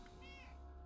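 A cat in the Stray video game gives a short, soft meow, a brief rising-falling cry over a low steady background hum, heard alone without talk.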